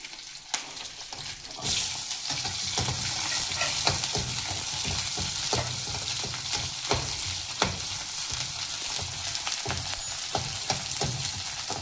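Small onions sauté in coconut oil with cumin for spinach chutney, a dense continuous sizzle of frying with recurring clicks and scrapes of stirring close by.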